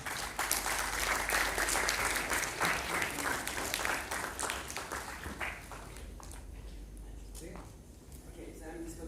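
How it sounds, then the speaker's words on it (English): Applause from a university conference audience greets a speaker called to the stage, thick and loud at first, then tapering off as someone begins talking over the last seconds. "We have a huge round of applause."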